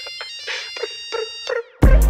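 A Nokia mobile phone ringtone plays a series of bright melodic electronic tones with ringing harmonics, ending abruptly in a loud, thick burst of sound.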